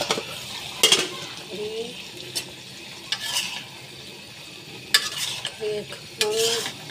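Spoon strokes scrape through potatoes, pointed gourd and other vegetables frying in a pan for a bata fish curry, coming in bursts over a steady low sizzle, close and moderately loud.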